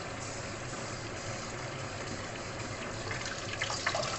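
Hot water pours steadily from a kettle or tap in a home kitchen while eggplant omelette is being prepared, a continuous splashing gush that grows slightly louder near the end.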